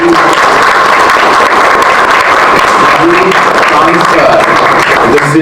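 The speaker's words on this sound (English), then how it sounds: "they truly deserve a huge round of applause" Applause from the audience at a film festival media panel, a dense steady wash of clapping sustained throughout, with a faint steady tone and some murmured voices underneath.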